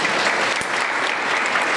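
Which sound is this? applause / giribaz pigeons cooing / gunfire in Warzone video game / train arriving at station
applause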